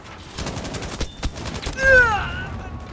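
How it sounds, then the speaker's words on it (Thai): Bursts of MG 34 machine gun fire in Battlefield V, rapid sharp shots in a fast rhythm mixed with other battle noise, moderately loud with a rising tone near the end. "ต่อไปนี่คือการรีวิวปืน MG 34"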